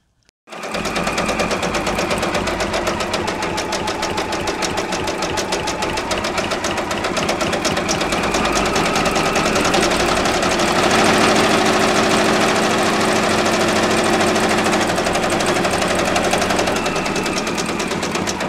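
A Brother Baby Lock Alliance embroidery machine stitches a felt patch, starting up and running at a constant rapid needle rhythm, loud and close, with no talk over it.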